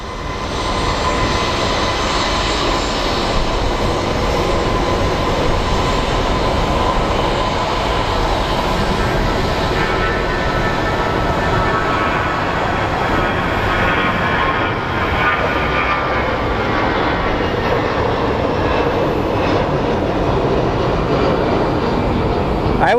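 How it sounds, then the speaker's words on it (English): A Southwest jet airliner in Allegheny heritage livery departs Phoenix Sky Harbor International Airport with a loud, sustained engine roar that holds steady throughout, heard from fairly close. "The Allegheny livery, Heritage livery, is about to depart."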